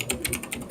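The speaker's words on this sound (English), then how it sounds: "Who is incessantly typing?" Rapid keystrokes on a computer keyboard, a steady run of crisp clicks at close range with no voices over them.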